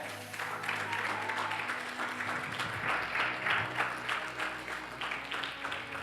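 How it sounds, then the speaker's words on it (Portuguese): Church congregation at a Sunday service clapping together, a dense sustained round of applause with crowd murmur, moderately distant and steady throughout. "Quem acredita nisso, fica de pé comigo, aplaudindo a Jesus de Nazaré"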